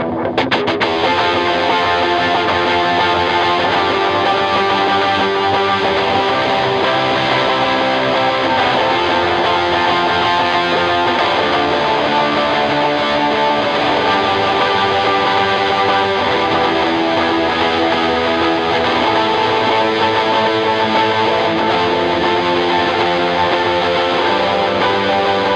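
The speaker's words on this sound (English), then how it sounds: "I am using both the overdrive distortion and my delay" An electric guitar through overdrive distortion and delay plays a song. The thick, saturated tone rings on continuously and loud for the whole stretch, with echoing repeats blurring the notes and no talking.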